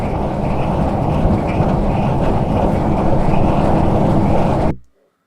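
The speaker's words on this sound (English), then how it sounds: "It's from a wind farm." Recorded wind farm ambience: a steady, loud, dense low rumble with a constant broadband roar, unbroken for about five seconds before cutting abruptly to silence.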